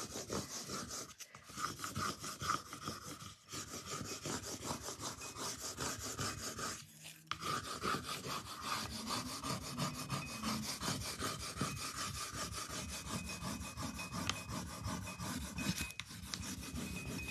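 Firm, rapid back-and-forth rubbing of a stick over a craft transfer on a paper tag, a close, rhythmic scratchy rasp that continues steadily with a few brief pauses.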